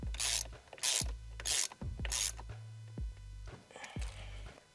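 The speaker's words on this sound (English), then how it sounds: "we're gonna wrench it down and then torque to spec" Ratchet wrench clicking as it tightens the steering wheel bolt on an F-150 Raptor, several quick bursts of loud, close ratcheting separated by short pauses, with no talking.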